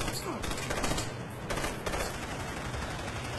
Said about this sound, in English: Why is this burst fire? I fucking hate burst fire.